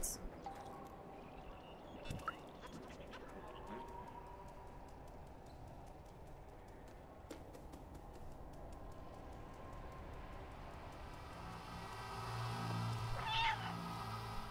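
A cat meows in the video game Stray, with faint, intermittent cries rising late over a low, rumbling game ambience.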